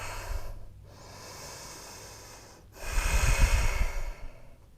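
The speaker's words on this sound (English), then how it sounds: "Take 2 more breaths." Deep, slow breaths during a fire flow yoga session, two soft drawn-out inhales and exhales with a fuller, breathier exhale near the end, close and quiet.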